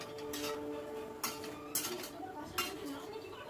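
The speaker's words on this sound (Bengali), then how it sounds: "আবার সব কিছু ভালো করে মিশিয়ে নিচ্ছি।" Okra and vegetables dusted with pepper powder get stirred in a pan, a spoon tapping and scraping the metal in a few distinct knocks over a low background, fairly quiet and close, with no talking.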